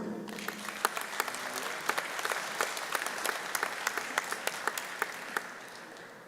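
Graduates at a spring commencement ceremony receive sustained applause from the crowd, a dense continuous clapping with sharper individual claps popping out, gradually tapering near the end.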